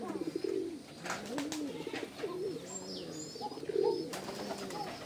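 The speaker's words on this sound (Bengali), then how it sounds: "ইরশাদ ভাইয়ের কবুতর।" Racing pigeon belonging to a club member, a bird with twelve race results, cooing in repeated low throaty bursts close by, with faint chirps of other birds and light background noise, no talking.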